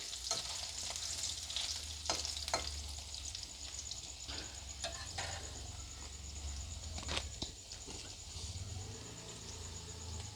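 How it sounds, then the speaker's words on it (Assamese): Potatoes frying in oil in a pan, a soft continuous hiss and crackle with intermittent spoon scrapes and taps, fairly quiet and close, with no voices. "মই আলুকেইটা প্ৰথমতে অলপ ৰঙা পৰাকৈ ফ্ৰাই কৰি ল'ম।"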